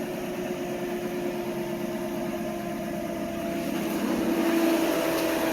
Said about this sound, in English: And we got proper idle.